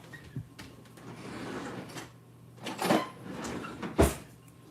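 Kitchen utensils rattle and clink as someone rummages through a drawer for a whisk while making banana bread, with a few sharper knocks and scrapes standing out over the low shuffling, and no talk.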